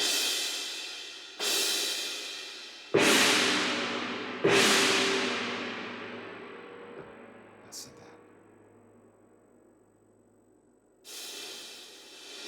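A suspended cymbal is struck several times, each hit swelling then washing away in a long shimmering decay, with pauses between strikes.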